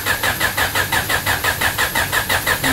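A car engine cranks with a steady, rapid rhythmic chug of the starter, evenly pulsing for several seconds at close range, with no talking.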